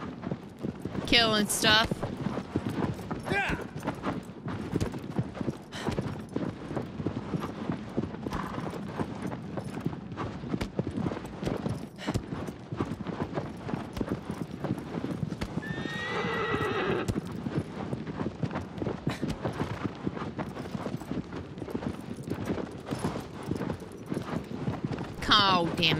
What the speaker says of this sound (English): Riding horses.